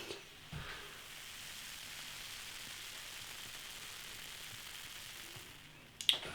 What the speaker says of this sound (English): Fantastic carbonation.